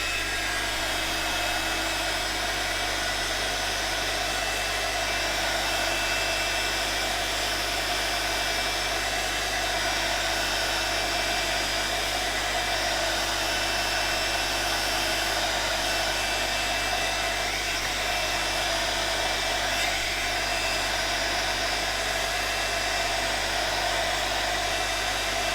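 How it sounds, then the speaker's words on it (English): A heat gun blows steadily to dry watercolour stamping, a continuous even rushing hiss of hot air held close to the mic for the whole stretch with no pauses or talk. "let me give this a blast with the heat gun because it's going to take an age to dry by itself"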